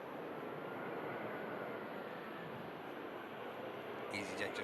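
An EasyJet airliner landing at Manchester Airport gives a steady, distant broadband roar of jet engines that holds level throughout, with a brief higher-pitched rustle near the end.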